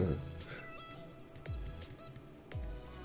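A person imitates a cat's meow with short, quiet voiced calls, a couple of brief meows spaced about a second apart, faint and close, while cards are being opened.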